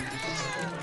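A single drawn-out meow from a nearby cat, clear and fairly loud, lasting under a second.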